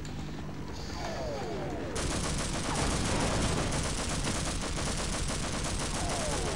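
Rapid, sustained gunfire from the Half-Life video game, loud and dense bursts running nearly the whole stretch with a sharper jump in intensity partway through.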